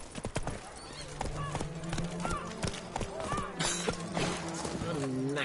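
Roach, a horse in The Witcher 3, gallops with rapid, repeated hoof clip-clops running through the whole stretch, mixed with game music and other in-game effects under a speaking voice.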